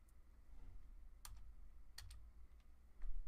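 Password typed on a computer keyboard, a few sparse, light key clicks spread out over a faint room hum, close but quiet.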